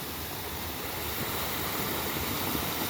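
River with a double waterfall running through rural property, giving a constant dense hiss and rumble of falling water, close and unbroken, with no talking.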